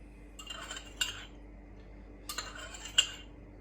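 A holy basil stir-fry (pad gaprao) is mixed in a pan, with two short bursts of scraping and clinking from a utensil against metal, separated by a quiet pause.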